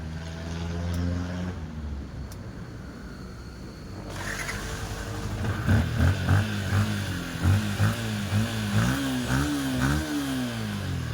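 A Yamaha Sniper 155 motorcycle engine, recently repaired after flood submersion, idles and then is revved in repeated rising and falling bursts, loud and close, with a steady running tone underneath.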